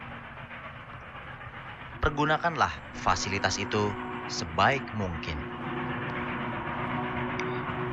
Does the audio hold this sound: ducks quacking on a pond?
no